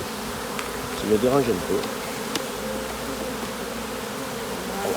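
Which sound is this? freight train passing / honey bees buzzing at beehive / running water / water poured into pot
honey bees buzzing at beehive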